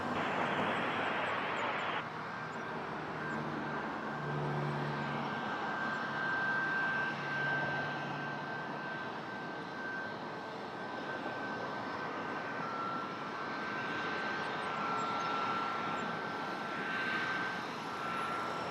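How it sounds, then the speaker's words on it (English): A Boeing 737 jet airliner at Toronto Pearson airport gives off a steady, distant engine roar that holds evenly throughout, with a faint high whine running through it and a brief burst of voice at the start. "This is a 737, but after that is an A330."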